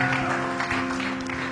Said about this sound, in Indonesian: tepuk tangan terbaik buat Tuhan